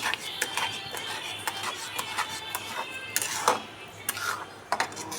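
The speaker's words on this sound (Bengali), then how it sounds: "তো চিনিটা দিয়ে আবারও খুব ভালো করে নেড়েচেড়ে মিশিয়ে নেব।" A spoon stirs sugar into Gobindobhog rice payesh in a metal pot, giving repeated close scraping clinks and knocks at an uneven rhythm, with no voices.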